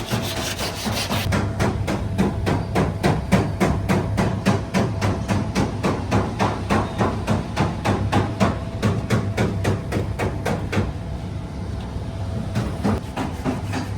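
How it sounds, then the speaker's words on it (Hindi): Rapid hammering on a Toyota Yaris body panel during dent repair, a dense run of sharp regular knocks, loud and close, continuing throughout. "ठक ठक आवाज़ आ रही है, वो यारिस की डेंटिंग हो रही है।"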